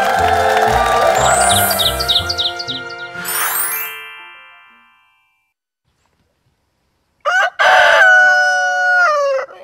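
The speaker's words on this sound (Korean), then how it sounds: "조용한 마을의 정적을 깨뜨리는 닭울음 소리" A rooster in a quiet village crows loudly and close, a long drawn-out call that fades into silence before a second, shorter crow bursts in.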